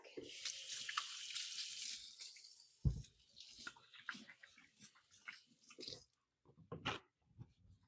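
A kitchen faucet runs into a sink as hands are washed after handling raw chicken, with splashing water, brief clatters and gaps of quiet toward the end.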